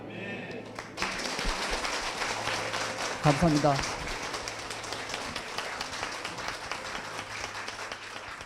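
A church congregation at Full Gospel Hosu Church breaks into sustained applause, filling the room after a brief quiet start, while a voice speaks over the clapping.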